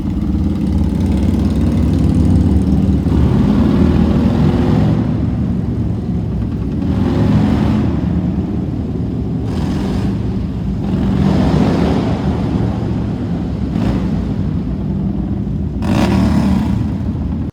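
A motorcycle heard from the rider's position through Ray-Ban Meta glasses: loud, steady engine drone and wind rumble that swells and eases as the bike rides on, with no talking.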